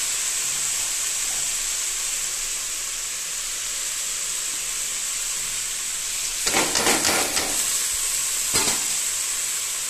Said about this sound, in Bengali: শুকনো কড়াইয়ের মধ্যে শাক এরকমভাবে দিয়ে দিচ্ছি